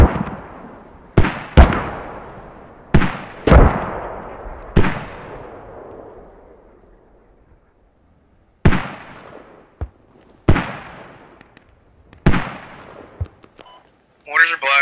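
Mortar rounds strike in a tactical multiplayer war game: about ten sharp, booming impacts in an irregular sequence, each with a decaying rumble. Some land close and loud, others sound more distant.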